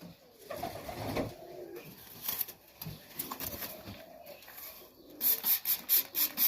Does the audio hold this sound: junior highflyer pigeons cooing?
yes